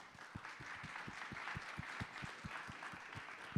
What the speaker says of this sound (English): please, one more round of applause for everyone here right now